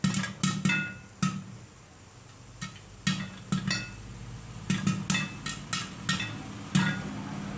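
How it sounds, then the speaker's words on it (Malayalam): Popcorn kernels burst inside a pressure cooker on the stove, a run of sharp, close knocks and pops in irregular clusters with brief quiet gaps between them. "നന്നായിട്ട് ഇത് പൊട്ടുന്ന സൗണ്ടെല്ലാം കേൾക്കുന്നുണ്ട്."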